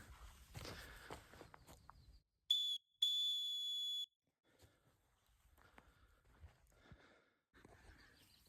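A single whistle blown to call a dog, sounding as two loud, shrill blasts, one short and one longer, outdoors at a nomad camp between faint footsteps and rustling.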